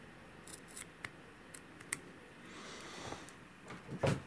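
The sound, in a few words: scissors cutting excess string on a bow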